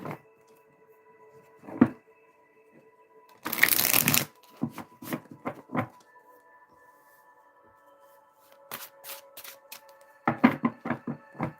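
Oracle cards shuffled by hand indoors, one brisk riffling burst followed by sharp taps, card flicks and deck handling, fairly close and alone without talk.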